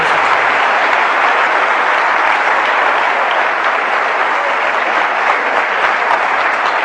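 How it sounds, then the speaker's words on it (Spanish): Steady, dense applause from a conference audience fills the room, loud and continuous from start to finish with no voices standing out. "quiero que se les dé un fuerte aplauso"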